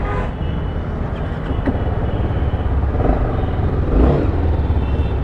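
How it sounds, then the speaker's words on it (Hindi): A TVS Apache RR310 BS6 motorcycle is ridden, its exhaust giving a loud, continuous, throbbing engine roar with a slight swell partway through. "The exhaust is also pretty good."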